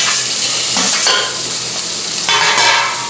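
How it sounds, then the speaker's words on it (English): Onion, tomato, ginger, garlic and chili sautéing in a pan for a Goan crab bafat, with a steady close sizzle and a few stirring scrapes of a utensil against the pan, no voices. "Saute it for a minute."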